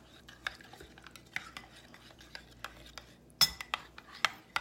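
A utensil stirs apple cranberry almond coleslaw seasoned with pink Himalayan salt, pepper and apple vinegar, giving faint scraping and soft clinks against a bowl, with one sharper knock near the end.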